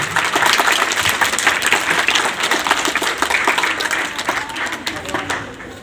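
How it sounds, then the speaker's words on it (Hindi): Children at a coaching campus in Shakti Nagar, Rewari, clap loudly together in a dense, steady round that stays strong for several seconds, then tapers slightly at the end, with some voices mixed in. "एक बार जोरदार ताली आप सभी के लिए"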